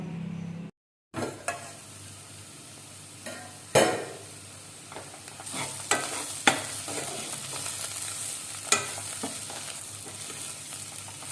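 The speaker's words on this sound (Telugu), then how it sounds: "ఈ బీన్స్ చక్కగా మగ్గాయండి. చూడండి సాఫ్ట్గా ఎంత చక్కగా మగ్గాయో." Green beans fry in a pan with a steady sizzle, punctuated by several sharp scraping stirs of a spatula against the pan, close and fairly loud throughout.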